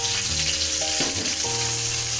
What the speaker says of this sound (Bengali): তেলটি গরম হয়ে গিয়েছে, এখন আমরা দিয়ে দিচ্ছি পেঁয়াজ কুচি